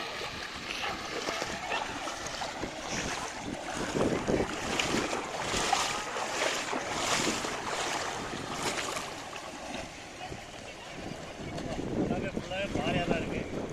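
Fast-flowing Cheranmakhadevi River water rushing over rocks, a steady broadband roar buffeted by wind noise on the microphone, with faint voices in places.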